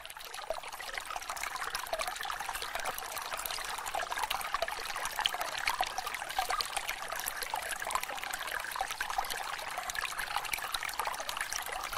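River water trickles and streams steadily at low volume, a continuous gentle flow with no voices.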